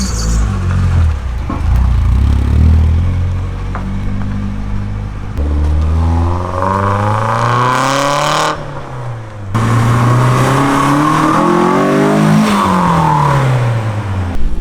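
An old JDM car revs hard while doing donuts, its engine climbing and falling in repeated loud sweeps with tyre whir, close and continuous for most of the stretch.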